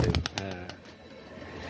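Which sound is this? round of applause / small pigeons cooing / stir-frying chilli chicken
small pigeons cooing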